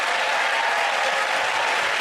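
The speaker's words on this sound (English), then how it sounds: "give that round of applause for the Chris Hugh and" Sustained audience applause at a comedy panel show taping, a dense, steady wash of many hands clapping for the full two seconds with no talk over it.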